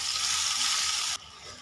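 Maggi goreng noodles, four packets, hitting a pan with cooked chicken and celery stalks: a steady loud hiss and sizzle for about a second, then dropping abruptly to a quieter crackle.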